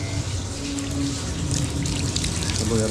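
Water runs from a tap while hands are washed at a stop on a winter trip, a steady trickle and splash with soft background voices around it.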